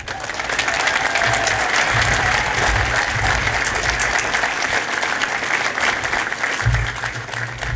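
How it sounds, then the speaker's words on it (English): Steady, loud applause from a large crowd at a softball stadium statue unveiling fills the whole stretch, a dense wash of clapping that neither builds nor fades. "How about another round of applause?"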